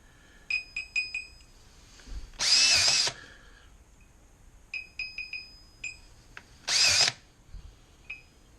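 A grease gun pumps grease into the track tensioner of a Bobcat T590 skid steer loader, giving two loud whirring bursts, each under a second, with small metallic clicks and faint tones between them and no voices.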